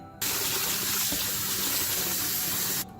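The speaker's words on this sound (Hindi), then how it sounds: "गंदम को अच्छे से वॉश करना है" Tap water runs steadily into a sink while wheat grains are washed for sprouting, a continuous close splashing rush that starts abruptly and stops just before the end, with no talk.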